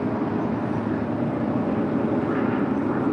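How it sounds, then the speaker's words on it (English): An Air Tahiti Nui Boeing 787-9 Dreamliner arriving from Papeete gives a steady, broadband engine roar at fairly close range, with no one speaking over it. "Air Tahiti Nui flight 102 coming from Papeete and a 787-9 Dreamliner, 2 minutes out from the south side of arrival"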